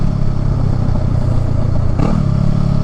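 Honda Rebel motorcycle fitted with a Shorty GP exhaust, its engine rumbling steadily and loudly up close, with a brief change near the end as it comes off throttle into a deceleration gurgle.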